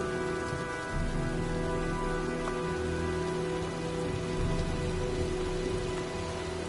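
Rain pours steadily during a storm in the video game Heavy Rain, a dense, unbroken hiss of falling water with a low rumbling undertone, loud and continuous throughout.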